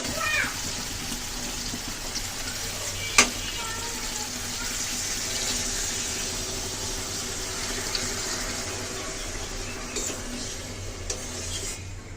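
Water poured into a pan of frying koi fish gives a steady, close sizzling hiss that fills the whole stretch, with a sharp crackle early on and a few small clinks later.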